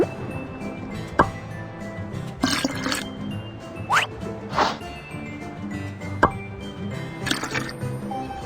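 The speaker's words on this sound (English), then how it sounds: "Let's pour the mixture into the mold." Cartoonish liquid plops and drips sound as ice cream mixture is poured into a mold in a Babybus ice cream truck game, with several bright splashy hits and glassy clinks spread over a light background.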